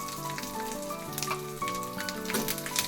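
Dried red chillies, curry leaves and asafoetida crackle in hot oil for a majiga pulusu tempering, a busy close sizzle with faint tonal sounds underneath.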